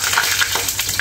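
Longganisa sausage fries in hot oil with a loud, close sizzle, punctuated by sharp popping spatters throughout this very short moment, and no one talks.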